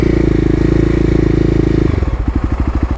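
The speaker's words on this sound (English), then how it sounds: "did my little stationary rev test, and I got the transition to the yellow zone" A fuel-injected Kawasaki KLX351 sits still with its engine held at a loud, buzzing high rev that then drops into a slower, uneven, lumpy idle.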